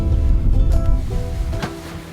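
Strong wind buffets the microphone outdoors with a steady low roar and gusty rumble, a rush of air swelling and easing throughout.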